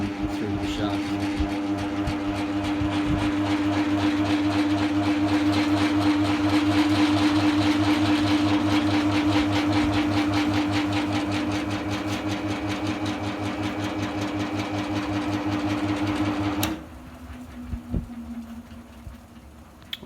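Motor of a homemade 12-frame honey extractor runs at high speed with a steady, buzzing mechanical hum and rapid rhythmic ticking, then cuts off abruptly and leaves only faint clicks.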